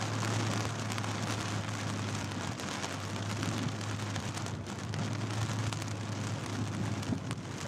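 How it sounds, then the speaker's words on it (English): Heavy rain falls steadily during a Minnesota–Wisconsin storm, a dense continuous patter on surfaces with a low engine-like hum beneath it and no talking. "Having to work in this rain sucks."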